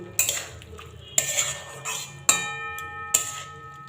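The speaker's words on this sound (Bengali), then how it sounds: "একটু নারকেল পোড়া দেব দিয়ে মিশিয়ে নেব" A metal utensil scrapes and clinks against a pan while spinach is stirred with burnt coconut, four sharp knocks spaced about a second apart over softer scraping, close and moderately loud with no talking.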